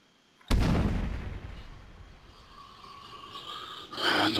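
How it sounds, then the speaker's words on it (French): A grenade explosion in Arma 3 goes off with a sudden loud blast, followed by a long rumbling decay and debris scraping, then another noise swells near the end. "Une petite grenade."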